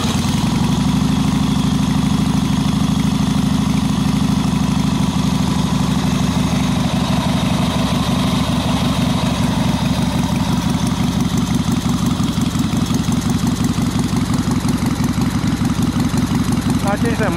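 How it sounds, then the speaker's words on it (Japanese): A motorcycle engine with an aftermarket muffler idles steadily with a deep, throaty exhaust rumble, loud and close, continuing unchanged throughout. "モーターステージかなのマフラー、これが異常にいい音します"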